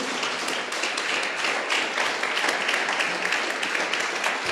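Steady applause from a church congregation, dense and continuous clapping throughout, loud and close.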